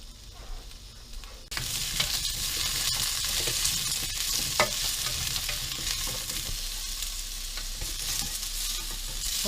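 Peppers sizzle in a stovetop grill pan, a steady loud frying hiss that starts abruptly and holds constant, with occasional small stirring clicks.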